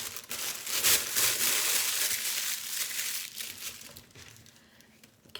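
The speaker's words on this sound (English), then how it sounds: "the rest of it I'm going to pop back into a clear plastic bag" Clear plastic bag rustling and crinkling up close while leftover cake icing or fondant is wrapped to keep it from drying out, bright crackly bursts fading toward the end.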